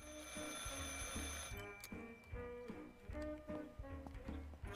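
Telephone ringing inside a horror video game, a repeated electronic bell pattern in quick regular bursts over a low musical drone, with no talk.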